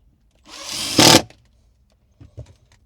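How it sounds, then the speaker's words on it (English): Power drill driving screws through a hinge into wooden boards, one short burst that ramps up and ends in a sharp final whine, followed by a couple of faint knocks. "I'm doing the longer screws on the part that's attached so I can go through both this board and the board underneath"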